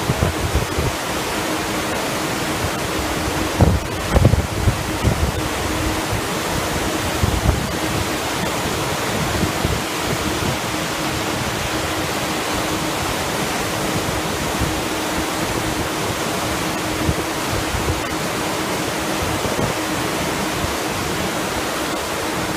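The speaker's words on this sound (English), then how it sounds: "The propellers, the thrusters are thrusting all that water back." Cruise ship propellers and thrusters churning water aboard the Divina, a loud, steady broadband rush of foamy water with wind buffeting the microphone, continuous throughout with no talk.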